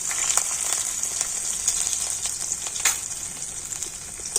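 Panch phoron, ginger and green chili sizzle steadily in hot oil for samosas, a bright continuous crackle with small pops and no voices.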